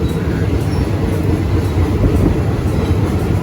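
A train on the Death Railway in Kanchanaburi, Thailand, rumbles steadily along the rails with a loud continuous low roar and faint rhythmic clatter, heard from inside the carriage.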